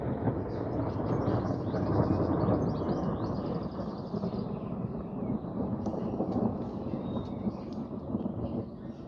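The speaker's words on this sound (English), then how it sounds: "It's the first thunderstorm I've had for a couple of years." Thunder from a thunderstorm rolls as a long, continuous low rumble with broad noise, sustained and fairly loud for the whole stretch, with faint high chirps in the background.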